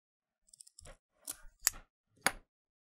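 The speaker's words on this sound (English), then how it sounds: "I'm just gonna cut out my Kevlar strength member just to get it out of our way" Scissors snip through the Kevlar strength member of a jacketed fiber optic cable, giving four distinct crisp cuts up close with brief pauses between them.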